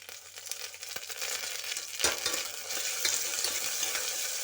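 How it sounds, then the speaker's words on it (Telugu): Curry leaves dropped into hot oil with onions and ginger paste for a potato and green pea curry, giving a close, steady sizzle with a sharp crackling flare and a few spoon scrapes against the pan. "ఇలా కలిపేసుకొని ఇప్పుడు కరివేపాకు వేసుకుందామండి"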